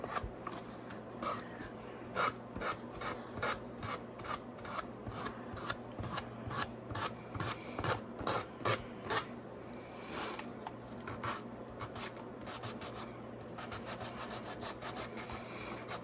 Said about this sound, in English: A bit of sanding.